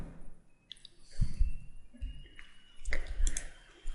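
Quiet mouse clicks while installing a driver for an HP Scanjet N6350 scanner, a few soft clicks spaced out over a few seconds with faint room background and no talking.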